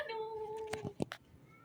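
A house cat gives a single drawn-out meow up close, followed by a few short, softer chirps and rustles at low volume.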